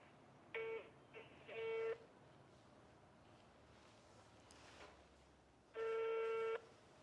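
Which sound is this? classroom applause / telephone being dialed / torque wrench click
telephone being dialed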